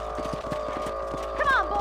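Horse hooves clip-clop at a steady trot in the Red Dead Redemption video game, evenly spaced and fairly close, with a voice briefly heard toward the end.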